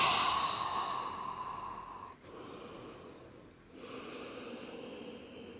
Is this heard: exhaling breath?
yes